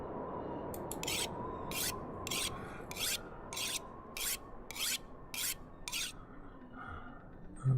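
In a video game, a weapon is sharpened with about nine evenly spaced rasping strokes of a blade against a stone, each a short bright scrape over a quiet hum, followed by a soft thud at the end.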